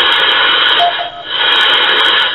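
An Icom IC-751 radio receiver tuned to stations gives a loud, steady wash of static and hiss, with a brief faint tone and a short dip in the noise partway through.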